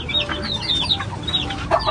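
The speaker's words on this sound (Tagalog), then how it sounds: "Papakainin na po ni Teo yung mga manok" Several chickens cluck busily at feeding time on a farm beside a fishpond, the close, overlapping clucks and short calls running steadily without any talking.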